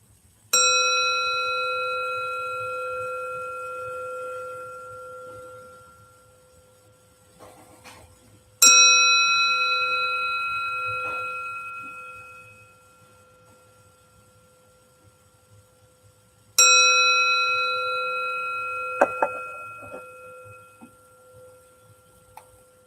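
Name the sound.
meditation bell ringing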